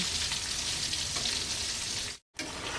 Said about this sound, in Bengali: যে কড়াতে তরকারিটা রান্না করব ওই কড়াতে মাছ ভাজা করছি